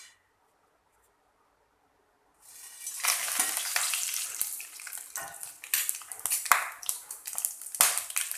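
Whole spices dropped into hot oil in a kadhai, a sudden sizzle bursting in after a couple of seconds of silence, then crackling and spattering with sharp pops, close and steady to the end.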